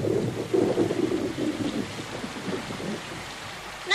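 Rain pours steadily with low rumbles of thunder rolling through the first half, fading into a softer continuous downpour, with no voices.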